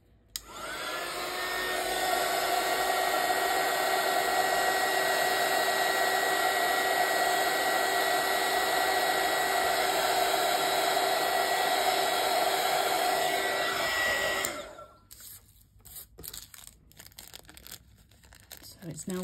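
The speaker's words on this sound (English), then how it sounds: "So you're going to hear the heat gun now" A heat gun fusing Angelina fantasy film blows with a loud, steady whine and whoosh for about fourteen seconds, then cuts off and leaves soft crinkling and handling sounds.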